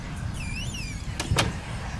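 A door in the horror video game Layers of Fear gives a drawn-out rising and falling creak, then two sharp knocking thuds close together, with a low rumbling ambience underneath throughout.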